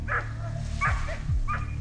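Hunting dogs bark in short, repeated yelps and bays during a wild boar drive in snowy woods, three close bursts over a low steady rumble.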